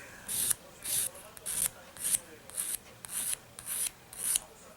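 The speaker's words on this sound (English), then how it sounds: "So I'm going to go ahead and keep filing." A nail file filing off hard builder gel from a fingernail, about nine rhythmic scratchy back-and-forth strokes, close but soft, with faint background noise.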